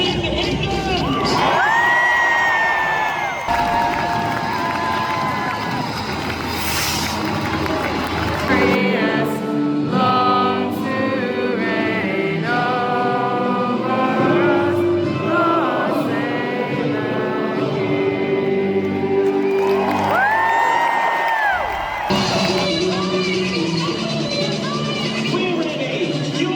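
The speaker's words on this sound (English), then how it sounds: "Give us a cheer if you're supporting England!" A large, excited crowd supporting England at the Women's Rugby World Cup roars and whoops continuously, with shrill shouts and bursts of cheering swelling throughout, loud and close, with a voice over a loudspeaker mixed in.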